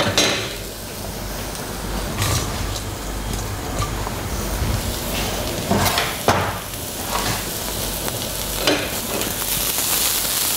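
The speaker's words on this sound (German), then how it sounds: "Jetzt gebe ich den Knoblauch dazu. Die Schalotten." Chopped garlic and shallots sizzle steadily in a pan over gentle heat for a red chard and Riesling cream dish, a constant frying hiss with occasional clinks and scrapes of a utensil against the pan.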